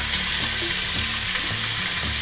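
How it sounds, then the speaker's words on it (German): Ground meat browns in a hot pan for a cheese, leek and mince soup, giving a continuous close sizzle and crackle, with faint stirring scrapes and no talking. "Und anbraten, das Hackfleisch."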